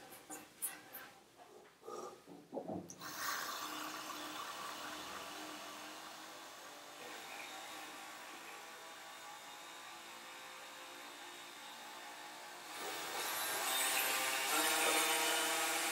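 A cordless Bosch GRO 12V-35 rotary tool running with a flex shaft attached, a few clicks and handling knocks at first, then a steady high-pitched whine that swells louder near the end.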